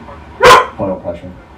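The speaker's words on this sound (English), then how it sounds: "My dog Boucher." A pet dog named Boucher gives one sharp, loud bark followed by a couple of softer yips or whimpers, close by indoors.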